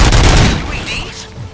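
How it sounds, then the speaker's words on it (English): Gunfire bursts in the RoboCop: Rogue City video game, a loud volley of overlapping shots at the start that fades into quieter rumbling and distant reports. "Gunshots?"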